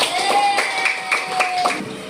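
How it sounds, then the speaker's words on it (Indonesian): A small group gives a short burst of clapping in a classroom-style session, a handful of distinct claps in loose rhythm over a steady background tone, fairly near and moderate in volume. "kita beri tepuk tangan kayak gitu"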